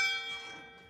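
A gong is struck once in a home kitchen, its bright metallic tone ringing and slowly fading over about a second, fairly faint and alone.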